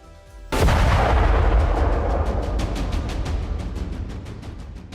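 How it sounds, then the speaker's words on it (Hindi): A loud blast inside Rameshwaram Cafe in Bengaluru, caught on CCTV: one sudden, powerful boom after a brief quiet start, followed by several seconds of dense rumbling noise and debris clatter that slowly fades. "कितने में भीषण धमाका होता है और अचानक से सन्नाटा छा जाता है"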